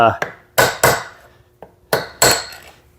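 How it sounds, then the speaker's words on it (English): Several sharp metallic hammer strikes on a brass punch, driving a seal into a Ford 9N/2N tractor bearing housing, in two quick groups of three, each ringing briefly. "I just got kind of used to doing it with a brass punch and a hammer"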